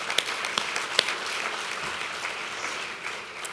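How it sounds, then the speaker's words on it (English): An audience applauds at a National Philanthropy Day awards event, with steady, moderately loud clapping that fills the room and a few sharper claps standing out. "And I need to applaud you for that."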